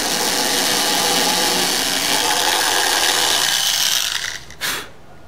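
A power drill bores a hole into a wooden guitar body with a loud, steady whirring grind for several seconds, then briefly revs and cuts off.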